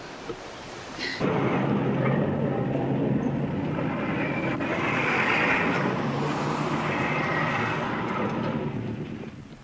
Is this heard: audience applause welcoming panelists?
no